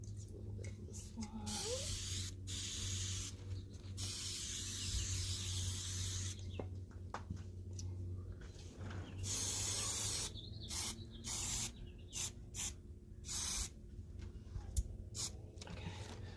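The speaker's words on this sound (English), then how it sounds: "So I kind of sprayed it on the back of here, just lightly." An aerosol can of spray adhesive hisses onto the back of decoupage paper on the ground, in several short, soft bursts and longer sprays separated by brief pauses, with no talking.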